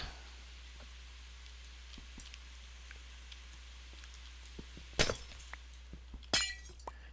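Glass panes shattering in the Minecraft video game, two sharp crisp breaks a second or so apart near the end over a quiet low hum, with faint small clicks before them.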